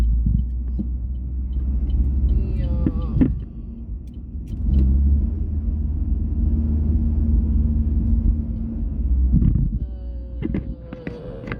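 A Tesla Cybertruck rolls past with a low, steady rumble and hum that swells slightly mid-pass, fairly close and continuous, with no talking over it.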